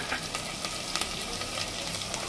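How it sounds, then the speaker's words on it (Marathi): Cumin powder hits hot oil as the tempering for a hotel-style sambar, giving a close, continuous, hissing sizzle with no talk. "मी जिरा पावडर टाकते म्हणजे त्याच्यामध्ये सगळं मिक्स होतं ते मसाला"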